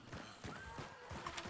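A horse in the game Hunt: Showdown whinnies faintly and briefly amid soft clip-clopping hooves and ambient game noise, somewhat distant.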